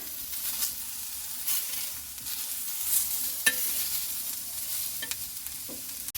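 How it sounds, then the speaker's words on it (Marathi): Peanuts, green chillies, onion, tomato and coconut are sautéed in a pan for a Marathi kharda, giving a faint, steady sizzle with occasional soft stirring scrapes and clicks. "मिरच्या कांदा टमॅटो खोबरं जरास भाजल्यानंतर त्यामध्ये नंतर शेंगदाणे घालून घ्यायचं ह्याला आता जरा भाजून घेऊया त्याला परतून घ्यायचं"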